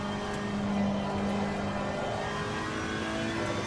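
A race car engine holds full throttle in a racing video game, a steady high-pitched drone with a slight rise in pitch, sustained and close throughout without speech.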